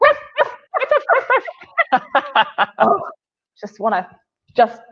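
A person imitates a small dog's yipping, a rapid run of high nasal yaps followed by a pause and a few more scattered yips, close and loud.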